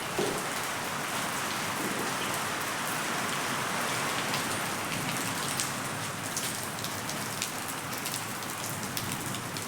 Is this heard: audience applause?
no